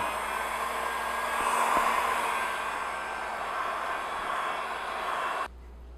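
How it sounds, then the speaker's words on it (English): A heat gun blows steadily and close by while heat sealing a foam spike, giving an even rushing roar that cuts off abruptly near the end. "Get my heat gun and do my heat sealing with the heat gun."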